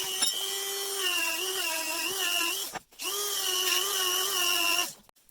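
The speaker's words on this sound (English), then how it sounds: "Get the Dremel." A Dremel rotary tool grinds a tight-fitting part for a dual rotor/stator LG Smartdrive wind turbine generator build, giving a loud, steady high whine in two long bursts separated by a brief stop.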